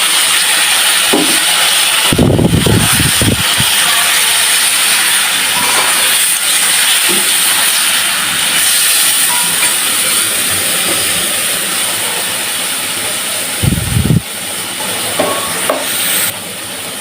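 Water hits a hot pan of fried green jackfruit and potatoes and sets off a loud, sustained steamy hiss. A few clanks of a utensil break through near the start and again near the end.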